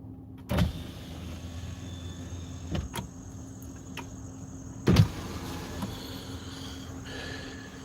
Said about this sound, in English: I'm opening the windows.